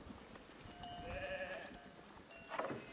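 Sheep in the video game Foundation bleat faintly over soft background ambience, a few thin wavering calls spread across the stretch with a brighter one near the end.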